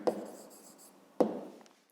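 Pen writing numbers by hand on paper for a fifth-grade maths exercise: two short scratchy strokes, each starting with a sharp tap and trailing off into soft scribbling, close and quiet with no talking.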